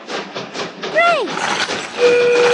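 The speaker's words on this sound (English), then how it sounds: "Attention! The train is departing." Cartoon train sounds from a children's hippo railroad video game: a short rising-and-falling whistle tone over clattering rail noise, then a steady horn-like tone near the end, with a voice talking over it.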